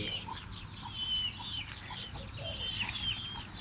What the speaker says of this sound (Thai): น้องไก่มาทำอะไรกันเนี่ย